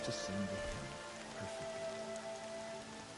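Rain in the video game Horizon Zero Dawn, steady patter on surfaces under a low ambient score, with a voice speaking briefly at the start.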